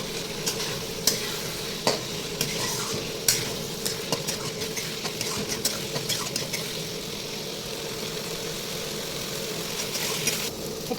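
Masala for egg biryani sizzles steadily in a pan while a spoon scrapes and stirs it with irregular clinks, close and continuous throughout.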